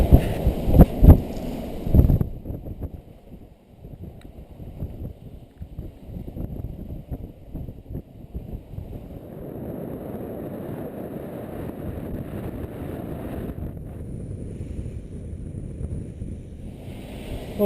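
Steady wind around a single-handed sailboat blowing about 20 knots, a continuous low rushing roar with buffeting on the microphone, a few louder thumps at the start, no voices.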